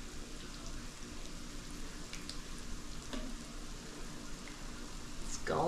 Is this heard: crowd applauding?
no